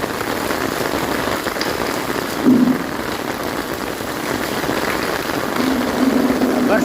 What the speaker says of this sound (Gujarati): વરસાદ ફૂલ આવી ગયો જો,